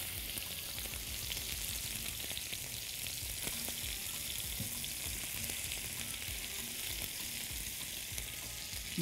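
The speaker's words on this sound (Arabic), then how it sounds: "نسيب اللية تسيح" Lamb tail fat melting in a pan, giving a steady, dense sizzle and crackle of frying throughout, with faint stirring clicks and no voices.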